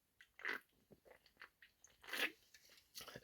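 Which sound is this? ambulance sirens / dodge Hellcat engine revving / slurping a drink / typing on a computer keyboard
slurping a drink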